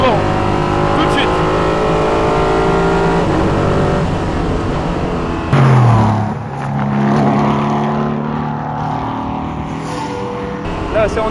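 Ligier JS P320 LMP3 race car driven hard on a circuit, heard onboard: a loud, continuous engine roar with harmonic tones that rise and fall through gear changes and a sharp shift midway, with someone talking over it.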